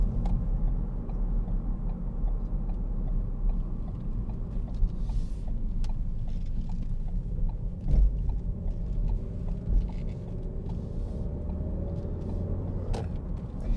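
A 2017 Ford Focus 1.5 TDCi diesel hatchback with a six-speed manual gearbox drives along a road, giving a steady engine drone and road rumble inside the cabin, with faint ticking and no talk.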